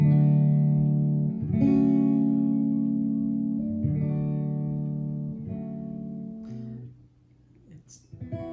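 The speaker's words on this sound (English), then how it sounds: "now I can play this beautiful guitar, which I really like the sound" An acoustic guitar strummed up close, a few chords struck at intervals of about two seconds and left to ring out in full, sustained tones, with a softer, quieter chord near the end.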